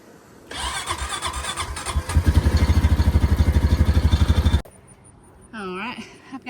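A four-wheeler ATV engine cranks with a rapid, rhythmic starter chugging for several seconds, close and loud, then cuts off abruptly; a brief voice follows.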